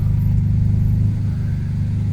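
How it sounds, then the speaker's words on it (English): A BMW 335i with the N54 engine and six-speed manual rumbles steadily and loudly in a deep, even idle-like drone, with no talk over it. "Right out of the factory, the car sounds good."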